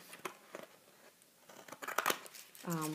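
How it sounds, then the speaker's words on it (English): Scissors snip a few short, crisp cuts along the edge of a paper card during cake-cover stamping craft work, coming as quick close strokes between bits of quiet talk. "I'm just going to cut this edge off."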